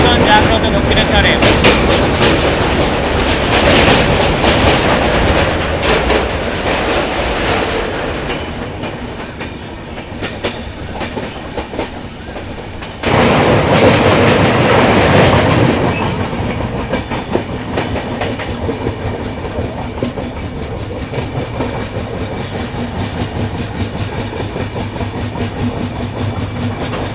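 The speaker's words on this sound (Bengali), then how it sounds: "দিন পর ইস্টার্ন রেলের লোকাল ট্রেন দেখতে পেলাম। ওয়াও কি সুন্দর পাসিং হচ্ছে।" An Eastern Railway local train passes close by while heard from aboard an express train, giving a loud rumbling rush with rhythmic clickety-clack that surges and fades, under occasional voices.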